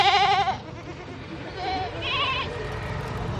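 A goat at a meat shop lets out a loud, wavering bleat, followed by a fainter second bleat against busy market background noise.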